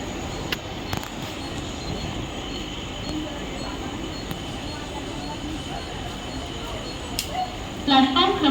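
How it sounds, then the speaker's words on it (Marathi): A Mumbai local train rumbles into platform 2 at night, a steady mechanical roar with faint clanks and a brief squeal near the end, while a platform announcement voice speaks over the noise. "हिमी लोकल थोड़े ही समय में प्लैटफॉर्म क्रमांक 2 पर आ रही है।"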